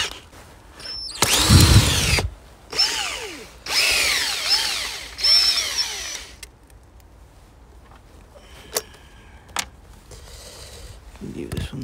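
A power drill spins out top bolts on the intake manifold of a Toyota Auris/Prius hybrid, several loud, close bursts of whirring with rising and falling pitch, followed by quieter clinks and handling noises.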